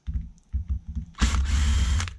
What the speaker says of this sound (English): I got my battery power drill.